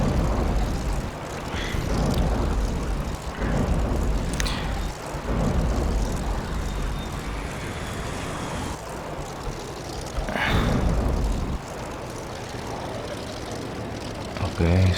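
Propeller aircraft engine drone from the Air Wars 3 flight game, a steady broadband roar that swells and dips over a few seconds, with talking on top throughout.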